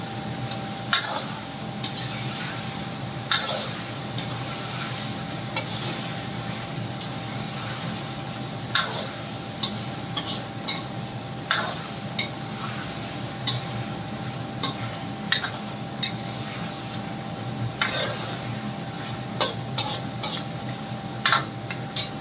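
Tomatoes and green chillies stirred into garlic in a pan, with a steady low frying hiss under repeated sharp scrapes and clinks of a spoon against the pan, moderately close and with no talking.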